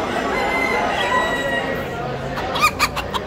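A rooster crows at a busy bird and poultry market in Bursa, the call rising in a few bright bursts near the end over a steady background of crowd murmur and market noise.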